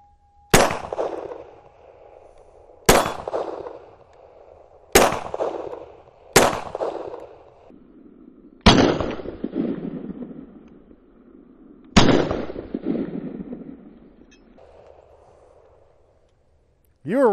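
Six loud, sharp shots from a Hi-Point JHP .45 pistol ring out at uneven intervals of about two seconds, each with a brief echoing tail at an outdoor range, and a voice starts at the very end.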